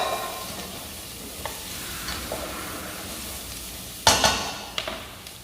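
Onion sautéing with browned bacon in a pan, a soft steady sizzle with a sudden louder hiss and crackle as food is moved around, close-up with no talking.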